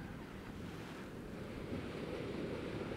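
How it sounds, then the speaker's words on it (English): An idle water mill wheel turning on Willow Brook in Northamptonshire gives a steady, continuous rushing and churning of water that stays fairly loud and even throughout, with no voices. "Not doing any work, but it's still rotating, and that's what the noise is."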